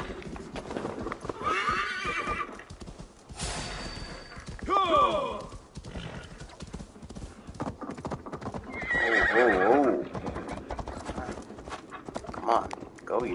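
A horse in Assassin's Creed Valhalla gallops with rhythmic clip-clop hoofbeats and lets out several loud neighs and whinnies, with someone talking over parts of it.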